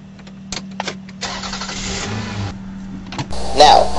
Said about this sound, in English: Twist your wrist forward and you'll hear the engine turn on.